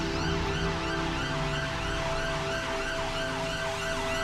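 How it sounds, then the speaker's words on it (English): A steady, wailing ambulance siren sounding continuously at a constant loudness, with traffic rumble underneath and no talking. "The ambulance is coming."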